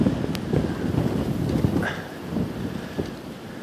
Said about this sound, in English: And that's with 40 mile an hour winds.